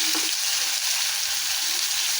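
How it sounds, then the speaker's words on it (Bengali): Rohu fish pieces frying in hot oil in a pan, a steady loud broadband sizzle that holds unbroken from start to finish, with no voices. "আমার পাশের চুলায় যে মাছটা ভাজা হইতেছিল সেটাকে এখন আমি উল্টে দিব"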